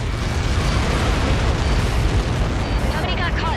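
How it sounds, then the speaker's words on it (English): A massive Helios projectile impact explosion in the Ace Combat 7 combat flight game, a loud sustained rumbling roar of blast debris filling the whole moment, with faint crackling tail at the end. "Nobody got caught in that explosion."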